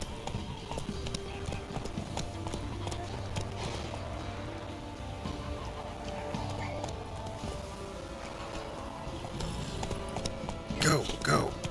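The horse Roach trots and gallops in The Witcher 3, hooves clopping in a steady rhythm under game ambience, with a sharper cluster of hoof hits near the end.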